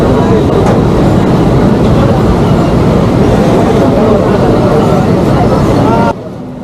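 Mumbai local train in motion, a loud steady rumble with rhythmic clickety-clack of wheels on rails heard from inside the carriage, cutting off abruptly near the end.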